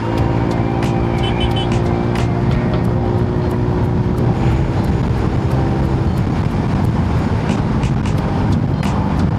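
Busy Cebu street traffic, a steady dense rumble of cars and other vehicles passing close by, with scattered clicks and horn-like tones over the continuous drone.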